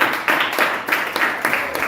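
An audience claps at an MLM business seminar in Zambia, the clapping coming in uneven bursts roughly every half second, moderately loud and fairly close, with no talk over it.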